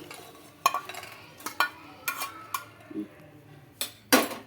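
Fried dried red chillies are scooped from a pan onto a plate, giving a series of sharp metallic scrapes and clinks of spoon against cookware, spaced irregularly and close by, with no talking.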